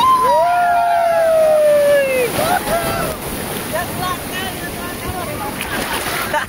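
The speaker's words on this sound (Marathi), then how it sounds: "सुंदर अशा लाटा येतात पाण्याच्या, त्याचा आनंद आपण घेतोय." Sea waves roll in at Murud beach in Dapoli as a continuous surf hiss under heavy wind buffeting on the microphone, with a high sliding whistle-like tone near the start and voices nearby.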